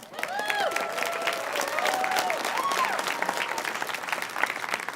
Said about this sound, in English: So big round of applause for progress